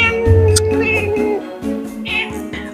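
A pet cat meows several times close up, short rising and falling calls with a voice speaking around them.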